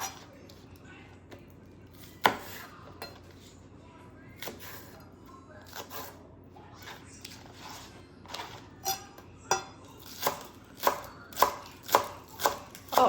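A knife chops green onions on a cutting board for homemade cabbage kimchi, the sharp taps sparse at first, then speeding into a steady rhythm of loud, close strikes toward the end, with no talk over them.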